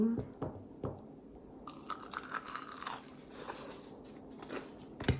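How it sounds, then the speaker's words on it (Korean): A crisp croquette is bitten into with a few crunchy snaps, followed by moist chewing close to the mic in a quiet room, with no talking. "근데 이게 냄새는 만두가 아니라 약간 고로케 먹어볼게요"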